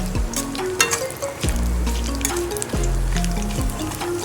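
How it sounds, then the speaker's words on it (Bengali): Small torn pieces of papad fry in a little oil in a home kitchen, a steady close sizzle running throughout with rhythmic stirring swells. "এই যে পাঁপড় ভাজা চলছে,"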